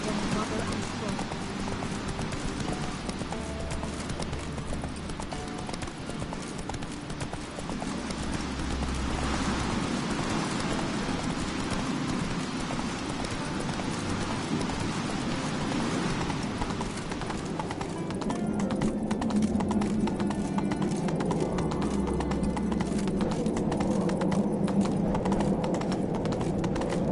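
Roach the horse gallops in The Witcher 3, with steady clip-clop hoofbeats running throughout, close and continuous, while game voices talk over them.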